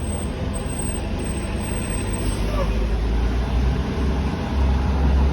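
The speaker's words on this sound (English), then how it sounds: "this bus is a little smoky. I can see the exhaust fumes from here. I don't know if you guys can see it, but it's a hybrid electric bus" A hybrid electric city bus passes on a busy street, its steady low engine rumble mixing with surrounding traffic noise at close range, rising slightly toward the end.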